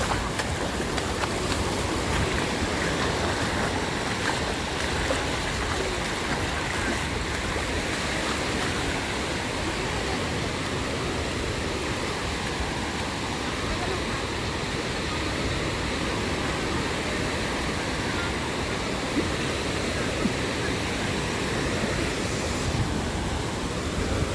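Sea waves roll onto the shore at high tide, a continuous loud wash of surf with no distinct breaks.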